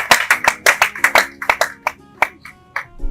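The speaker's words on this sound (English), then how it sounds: "A round of applause." At a wedding celebration for a bride and groom, a few guests clap in an uneven, sparse round of sharp, close handclaps that thin out and falter after a couple of seconds.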